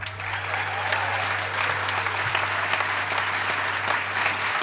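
Audience applause in a room at the inauguration of San Francisco Supervisor Joel Engardio, a steady, even wash of clapping over a constant low electrical hum.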